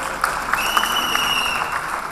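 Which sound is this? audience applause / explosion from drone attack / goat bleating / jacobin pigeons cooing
audience applause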